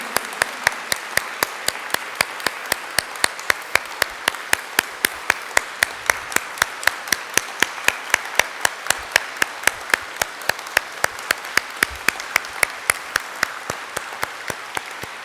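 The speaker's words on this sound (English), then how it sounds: "Let's all give a thunderous applause to Her Holiness, Sri Aathmanandamayi Mataji." An audience at a Sushumna Kriya Yoga initiation in Sharjah claps in a steady, rhythmic beat, with sharp regular claps repeating for about fifteen seconds over a low murmur.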